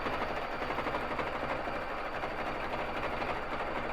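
A BabyLock Jazz sewing machine runs continuously while free-motion quilting on a frame, a rapid, even mechanical chatter that stays close and steady throughout.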